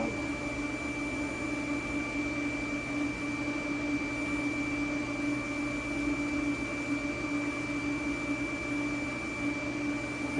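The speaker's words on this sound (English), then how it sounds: "That's the pump or fan, whatever it is" A US Solid induction forge's cooling pump or fan gives off a loud, steady high-pitched whine with a constant hum beneath it, unbroken for the whole stretch and with no talking.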